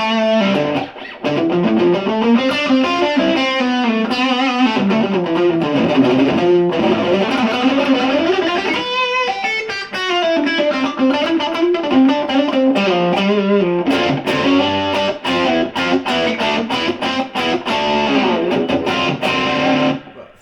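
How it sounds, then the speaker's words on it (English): Electric guitar played through a repaired Marshall 12 Watt Reverb amplifier with a fairly tight distortion tone, strummed chords and riffs ringing out continuously and loudly for the whole stretch with no talking. "Fairly tight distortion sound, so not a bad little thing."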